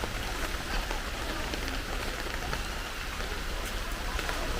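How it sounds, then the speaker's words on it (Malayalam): Rain falls steadily outdoors, a dense even patter with no talk over it, fairly quiet and constant throughout. "മഴ പെയ്യുന്നുണ്ട്."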